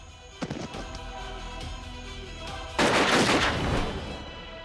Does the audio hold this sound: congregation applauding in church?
no